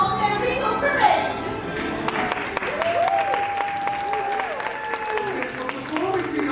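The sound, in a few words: audience applause welcoming Disney princess parade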